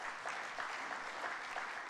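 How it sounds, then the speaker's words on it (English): Audience applause for coach Daryl Baldock during a Hall of Fame speech, a dense, steady wash of many hands clapping at even loudness throughout with no voices over it. "Give him a clap."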